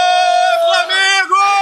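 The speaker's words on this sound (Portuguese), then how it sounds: "A gente devolve para você com a festa da torcida do Flamengo." Flamengo supporters roar and chant together in a loud, sustained crowd cheer, a dense mass of voices holding a steady pitch close by.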